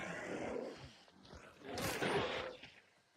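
A monster in the video game Hunt Showdown lets out two rough, growling roars, the second louder and longer, heard fairly close and without talk.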